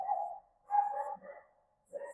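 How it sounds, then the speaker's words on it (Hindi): Dogs bark somewhere in the background: three short bursts of barking and yipping, moderately loud and spaced across a couple of seconds, with no one talking. "भाई मुझे कुत्तों का भौंकना नहीं पसंद है"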